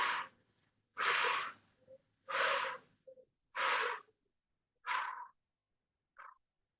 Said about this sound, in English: Breathing out, breathing out.